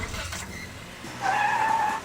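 A stunt car driven in jerky, lurching kangaroo hops by a stunt driver: low engine rumble, then a short high squeal of tyres, heard at a moderate distance.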